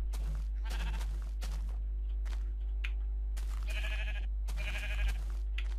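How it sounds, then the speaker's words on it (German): Sheep and lambs in the Minecraft Beta 1.9 prerelease bleat repeatedly and close by, several overlapping calls over a steady low background hum, with no talking. "Ein kleines Schäfchen."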